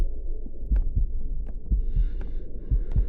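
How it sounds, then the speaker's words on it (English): In a horror video game, a low thudding heartbeat pulses at a steady, slightly quick pace, close and muffled, with faint higher ambient tones drifting over it and no talk. "Does the heartbeat mean he's close?"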